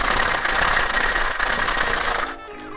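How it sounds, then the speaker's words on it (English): Ice rattles hard inside a cocktail shaker as a rum daiquiri with coconut is shaken, a fast, dense, rhythmic clatter that runs loud and close for over two seconds, then stops. "Get your ice, add your ice, and give it a shake."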